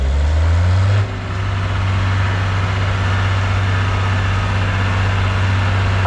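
A vintage tractor of about 90 to 100 horsepower runs a pull sled at a tractor pull practice day in Korumburra. Its heavy engine drones steadily and loudly throughout, with a deeper note that drops slightly after the first second.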